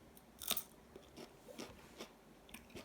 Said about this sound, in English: They have a nice little crunchy texture